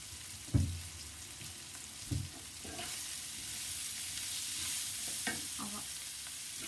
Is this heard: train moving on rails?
no